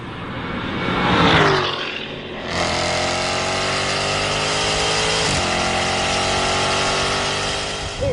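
Jaguar F-Type SVR sports car at full throttle in VMAX mode on a long straight, loud engine roar with rising gear-change sweeps, a brief dip then sustained howl close up.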